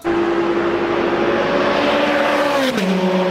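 A Ferrari 16M Scuderia Spider engine holds a steady high drone that slides slightly downward near the end, loud and continuous throughout.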